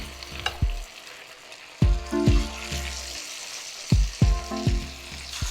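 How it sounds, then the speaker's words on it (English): Boneless tilapia pieces for an Indian-style fish fry drop one by one into hot oil for deep frying, each landing with a sharp splash and burst of sizzle over a steady bubbling crackle, close and fairly loud. "Now the oil is hot. Let's start adding the fish pieces slowly."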